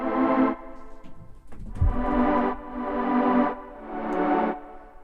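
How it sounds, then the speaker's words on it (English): Guitar chords strum in slow, separate bursts, each one washed in a light reverb so it rings out and fades smoothly instead of stopping dead. "When you get like a tiny bit of reverb like that, it kind of keeps the whole chord sound kind of flowing and never stopping."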